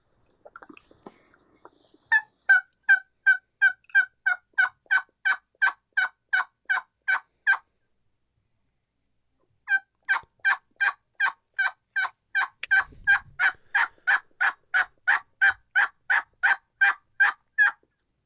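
Raspy turkey yelps from a diaphragm call come in two long, loud, evenly spaced runs, with a short pause between them.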